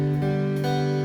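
Open guitar strings 4, 3 and 2 picked and left ringing, a sustained chord-like tone with a fresh pluck near the middle, close and alone with no talk.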